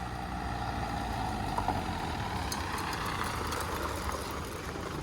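A crash-damaged Mercedes GLA 200d AMG Line diesel running right after starting, a steady low idle drone with no clear change in pitch.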